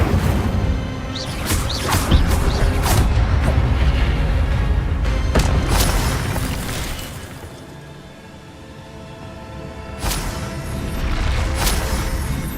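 A fire spell cast in the Hogwarts Legacy video game bursts out in loud booming, crackling blasts and whooshes. Several impacts sound early, the noise dips toward the middle, then flares up again near the end.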